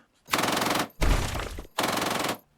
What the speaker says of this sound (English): miscellaneous gunfire and explosions